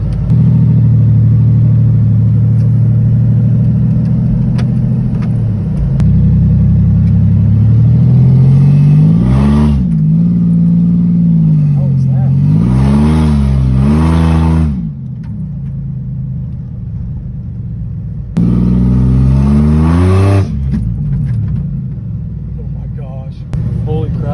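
A six-cylinder car engine idles low, then revs and accelerates in several rising pulls with brief pauses between, loud and close throughout.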